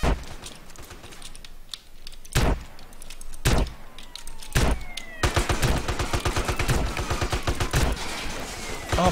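Gunfire in a roleplay video game server: several sharp isolated shots, then a dense rapid burst of fire, heard over steady keyboard typing and clicking at moderate volume.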